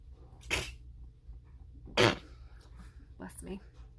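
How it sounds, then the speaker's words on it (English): A single sharp sneeze bursts out near the start, followed by a second louder sneeze-like burst, then brief faint vocal sounds. "Sneeze."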